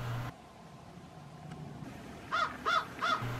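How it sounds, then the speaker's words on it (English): A crow caws three times in quick succession near a Newfoundland coastal area with bald eagles, clear, harsh calls after a quiet stretch of faint background hiss. "All the while, the crow still makes his presence known to him."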